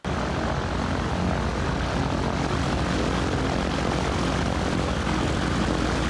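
Grob Tutor propeller training aircraft used for military pilot training, heard as a steady loud droning roar of engine and propeller that continues evenly without a break and without voices.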